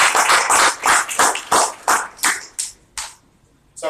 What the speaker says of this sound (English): I'd certainly like to give a round of applause